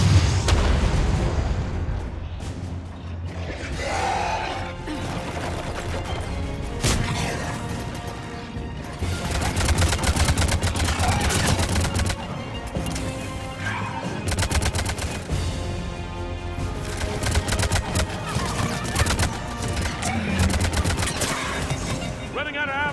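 Sustained video-game firefight from Mass Effect, with dense overlapping gunfire, crashes and booms continuing loudly throughout under a battle soundtrack, with occasional shouted voices.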